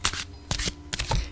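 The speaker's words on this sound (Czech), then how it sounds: "Já si tady celou dobu míchám Anděle Hvězdného Avalonu." Angels of Starry Avalon oracle cards being shuffled by hand, three quick bursts of riffling paper snaps close to the microphone with short pauses between them.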